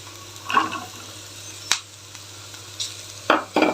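Carrots go into a pan of vegetables frying over a medium flame for a vegetable soup, giving a few short bursts of sizzle and stirring scrapes separated by quiet gaps.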